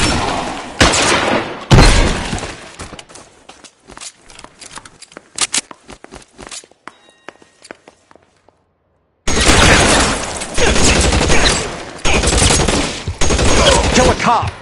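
Gunfire in the video game L.A. Noire, loud bursts of rapid shots and scattered single cracks that thin out into a brief silence before heavy firing resumes.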